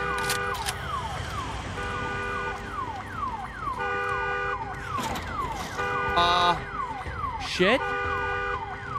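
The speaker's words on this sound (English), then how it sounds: "All right, turn off the car alarm." A car alarm in the video game Days Gone wails with a repeating, sweeping electronic siren pattern, steady and loud throughout, with a few sharp game noises and a brief spoken remark over it.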